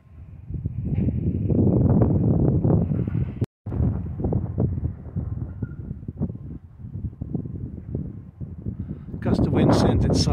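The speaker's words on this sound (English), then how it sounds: "That's about an 8-10 mile an hour wind" Gusty wind of about 8 to 10 miles per hour buffets the microphone beside an Istabreeze I2000 small wind turbine, a loud rumbling roar that rises and falls in bursts under intermittent talk, with a brief dropout midway.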